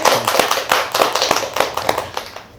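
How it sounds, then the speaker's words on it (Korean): Church congregation clapping during a Sunday worship service, loud, close, uneven individual claps that thin out toward the end. "영광의 박수 먼저 드릴게요"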